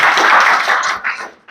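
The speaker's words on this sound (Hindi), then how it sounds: "चलिए ताली बजा दीजिए इनके लिए।" Schoolchildren in an Indian Class 8 science classroom clap for a classmate, a short burst of brisk applause that thins out and fades within a second or two.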